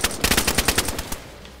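Rapid automatic gunfire in the video game DayZ, a fast burst of about a dozen sharp shots over a second, fairly close and loud, with no talk over it.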